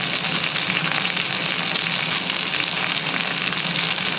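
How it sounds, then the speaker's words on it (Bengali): Taro pieces fry in a small amount of oil in a pan with a continuous, loud, close sizzle that holds steady throughout. "এই তেলের মধ্যেই আমি কচুটা দিয়ে দিচ্ছি কচুটা অনেকটা ফ্রাই হয়ে গেছে"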